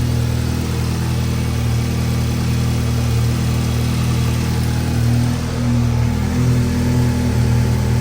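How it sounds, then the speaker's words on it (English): A car engine idles steadily after an oil change, a low, even rumble with a constant hum held close and alone for the whole stretch, no voices. "now we are gonna let the car run and get up to"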